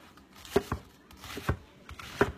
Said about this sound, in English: I'm going to go ahead and just rough chop a half of a large onion